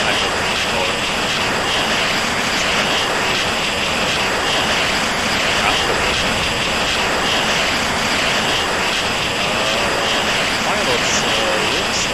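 An F-14B Tomcat's jet engine in the Falcon BMS flight simulator makes a continuous, even, broadband roar, steady and unbroken from start to finish.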